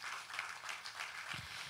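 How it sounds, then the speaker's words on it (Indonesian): Congregation applauding for God during an Indonesian church service, a steady wash of clapping from a crowd throughout, moderately distant and even in level. "Boleh tepuk tangan buat Tuhan"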